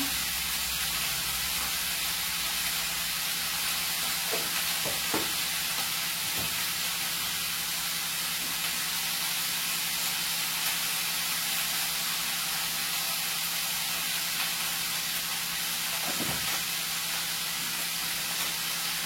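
Onion stalks and potatoes frying in hot oil give a steady, close hiss and sizzle that runs the full length, with a few faint clinks and knocks now and then.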